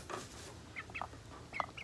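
A few short, sharp chicken clucks pop out at irregular moments against a soft, steady background hiss.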